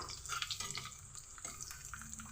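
Sun-dried mutton pieces fry in a pan with a steady close sizzle, broken by soft scraping and stirring clatter throughout.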